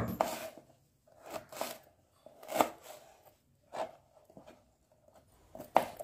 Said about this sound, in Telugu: మామిడికాయ అయితే ఇప్పుడు చిన్న చిన్న ముక్కలు కోసేసుకుందామండి.